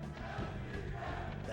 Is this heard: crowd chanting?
yes